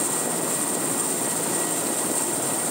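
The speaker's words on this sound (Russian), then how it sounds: "В Индиге приземлились 4 вертолета и 2 «Аннушки»" Aircraft roar on a frozen river landing site in Indiga during a smelt festival where helicopters and An-2 biplanes touch down, a steady, loud, unbroken engine noise throughout with no voices.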